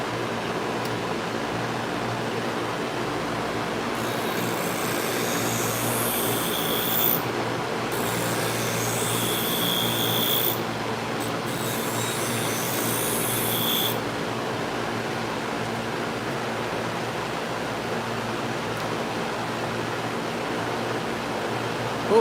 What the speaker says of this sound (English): William, this is a twice as sharp from Wolf Industries.